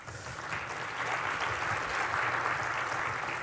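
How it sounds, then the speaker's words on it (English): Sustained applause from a conference audience greeting a presenter at a Microsoft Build 2017 developer session, a dense, steady wash of clapping that holds at an even level throughout with no one speaking. "can we get another round of applause for Dave?"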